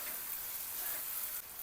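Steamed potatoes and field bean seeds sauté in a spice mix and oil in a pan, giving a steady, soft sizzle that holds evenly throughout with a faint scraping stir.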